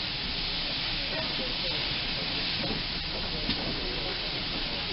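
Steam locomotive 7822 hisses in a steady, loud, continuous wash of steam that fills the whole stretch, with faint rattles and knocks underneath.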